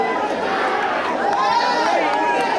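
Fans crowd a cinema hall, the Kamala theatre, for a mass celebration, their cheering and uproar a loud, continuous roar with chatter and shouts throughout, near and dense with no pauses.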